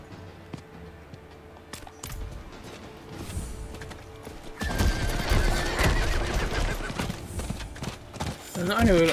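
A horse's whinny and clip-clopping hooves from Diablo 4 rise after a quieter start, mixed with mechanical clicks and game noise, with a voice talking faintly underneath.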